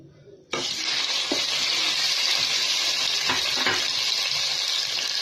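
Chicken pieces drop into about a tablespoon of hot oil in a pan and set off a sudden loud sizzle that carries on evenly and close by, with a few soft clinks of the pan.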